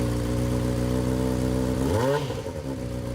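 A Honda CBR600RR 599 cc liquid-cooled DOHC 16-valve inline-4 sport bike engine idling with a steady hum, then revving up and dropping back near the end, loud and close with no talking.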